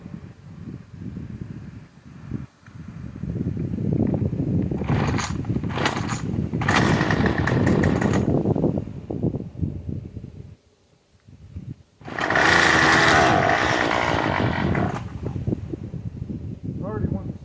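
Gas weed eater fitted with a chainsaw-style chain, its two-stroke engine running loud and close, revving up and down with a brief drop near idle before surging again, wind noise over the microphone.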